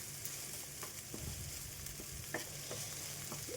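Flattened rice pulao with carrots, beans, potato, peas and onion frying in a pan, a steady soft sizzle with light scraping stir strokes, close but quiet.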